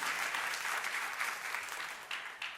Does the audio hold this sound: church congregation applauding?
yes